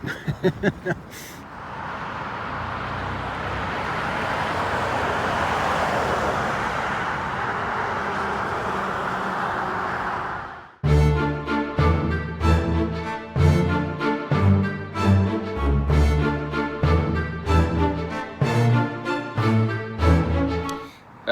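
A loud, continuous rush of road traffic lasts about ten seconds, then gives way abruptly to rhythmic music.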